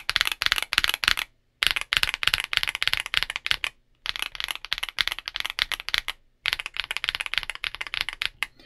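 Pre-lubed Outemu Cream Green linear switches on a keyboard, pressed in rapid typing bursts: dense, close clacking runs broken by short pauses.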